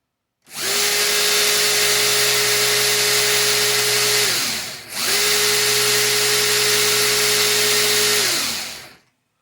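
An MJX Hyper Go RC car motor runs at full throttle in two long bursts, a loud high-pitched electric whine that rises sharply, holds steady, then winds down, with a brief dip between the runs.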